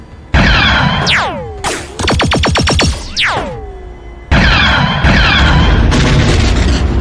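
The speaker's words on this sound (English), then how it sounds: "shots from Eddie, Rayan, and the surviving Niktos cut the biker down" A Star Wars audiobook battle effect: loud blaster shots zip in rapid bursts and sweeping pitched tones, then heavy explosions boom and rumble, with no narration over it.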